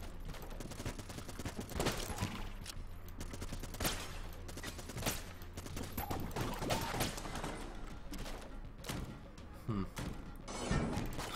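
Gunfire in the video game Enter the Gungeon: dense rapid bursts of shots and impacts, fairly faint, continuing throughout with a few louder cracks and thuds, and a voice talking over it.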